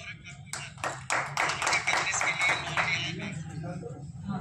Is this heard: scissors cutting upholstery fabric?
no